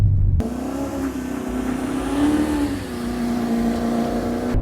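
A car engine pulls hard during a high-speed test drive with the clutch no longer slipping, a loud, close, sustained drone whose pitch climbs and then settles after a brief gear change.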